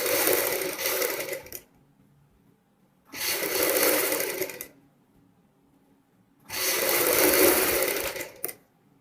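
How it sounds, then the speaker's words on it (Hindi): A sewing machine stitches a kurti collar in three long bursts of steady mechanical whirring, separated by short pauses, close and alone with no talk. "पूरी सिलाई इसी तरीके से कंप्लीट करेंगे"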